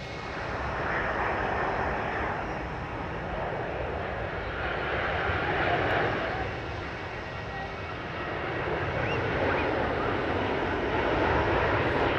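Jet aircraft engine noise on runway 03 at Perth airport, with Jetstar, Qantas and Rex airliners moving, a steady broad roar that swells and fades slightly over time, heard from a distance with no talk.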